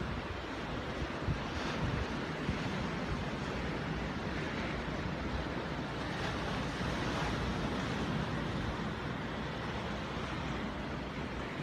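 Continuous ocean surf washing and rolling in a steady broadband wash, with wind rumble across the microphone and no voices, at a sunset shore.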